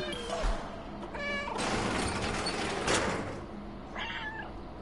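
A game cat from the Stray video game meows a few times, short tonal calls rising out of a busy, noisy background with some talking mixed in.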